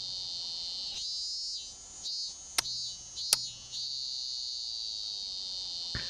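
Cicadas drone in a steady, loud, shrill chorus that pulses and swells, with a couple of sharp clicks partway through and no talk.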